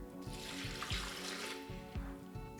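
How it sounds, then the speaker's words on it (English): Two cups of water pour into a blender container for a green smoothie, a close, steady splashing stream with gurgling pulses, no voices. "Next, we're gonna add 2 cups of water."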